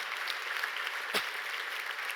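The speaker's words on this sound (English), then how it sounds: "let's give a great round of applause for Kate Snow" Faint, distant applause from a forum audience at a plenary session, an even wash of clapping hands with one sharper knock partway through.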